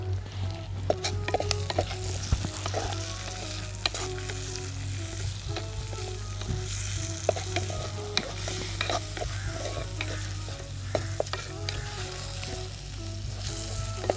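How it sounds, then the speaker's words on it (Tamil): Onions, chillies, capsicum and tomatoes sauté and sizzle steadily in a pan over a village cooking fire for a quail and mango gravy, with frequent stirring scrapes and light utensil clinks throughout, close and continuous. "தக்காளி அவரத்தையும் போட்டு வதக்கிக்கலாம்"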